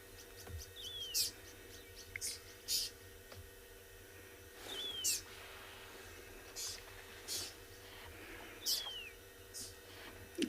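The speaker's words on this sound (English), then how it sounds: "Yes, that is the sound of the oxpecker who's behind me." Oxpecker calls at sunrise in the South African bush: several short bright chirps and descending whistles repeat every second or two, mid-distance, over a low steady ambient hum with faint background birds.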